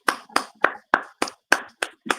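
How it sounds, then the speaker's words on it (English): A single person clapping close by, eight crisp, evenly spaced claps at a steady rhythm with no crowd around. "let's give them a round of applause"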